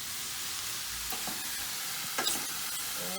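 Frozen peas and other vegetables for a vegan shepherd's pie crackle and hiss steadily in a hot pan, with a few brief stirring scrapes and a louder burst of sizzle near the end, close by and with no talk.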